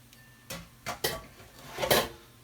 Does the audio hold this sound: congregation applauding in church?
no